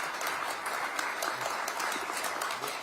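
Steady applause from a seated audience at a Korean business leaders' meeting with economic association heads, dense, even clapping filling the room with no pauses.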